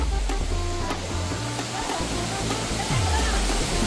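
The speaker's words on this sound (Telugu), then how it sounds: "వాటర్ ఫాల్స్కి వచ్చేసాం ఫ్రెండ్స్." Sarugudu waterfall roars as a steady, loud broadband rush of water close by, continuous throughout, with low rumbling underneath and a person's voice speaking briefly over it.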